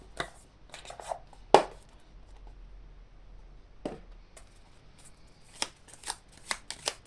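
Oracle cards are shuffled for a reading, quick close riffling flicks in short bursts separated by quiet gaps, one sharp snap near the start.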